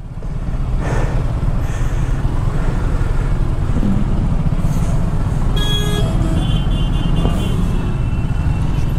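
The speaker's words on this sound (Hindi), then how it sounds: "भाई बहुत ट्रैफिक एक्चुअली" Dense road traffic fills a jammed town junction, with a constant loud rumble of engines up close and a few horn toots cutting through.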